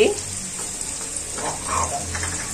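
Crushed chili and turmeric frying in a pan for dhaba-style bhindi do pyaza, a steady close sizzle that holds evenly throughout with no talk over it.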